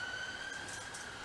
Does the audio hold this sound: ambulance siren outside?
yes